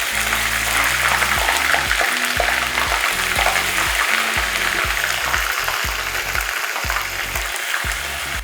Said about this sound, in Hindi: हमारा लहसुन भी फ़ौरन जल्दी से फ्राई होता है क्योंकि हमने इसमें पानी शामिल नहीं करा है।